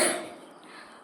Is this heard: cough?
yes